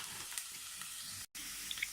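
Mince fries in a pan with plenty of oil, producing a steady close hiss and crackle throughout, broken only by one very short dropout, with no talking.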